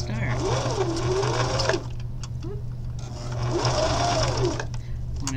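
Sewing machine stitching a bag in two runs of rapid, whirring, rhythmic stitching with a brief pause between, a steady hum underneath.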